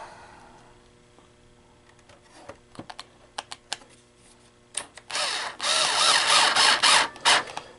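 A weak cordless screwdriver, around 4 volts, backing screws out of a Coinco 9302GX MDB coin mechanism: a few sharp clicks and taps first, then a louder, steady whirring buzz that runs up close through the last few seconds.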